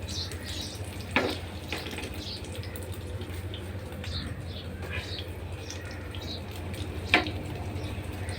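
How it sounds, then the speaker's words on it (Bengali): Bread fries in oil in a frying pan, giving a soft, steady sizzle with a couple of sharper clatters or crackles near the start and end and no voices. "ফ্রাই প্যানে তেল দেওয়া আছে, এখন রুটিটা দিয়ে দিলেন ফ্রাই প্যানে"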